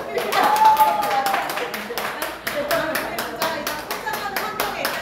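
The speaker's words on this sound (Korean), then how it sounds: "박수 부탁드립니다" Audience applause after a business talk at an indoor seminar, dense steady clapping from many hands throughout, fairly close and even in loudness, with some voices mixed underneath.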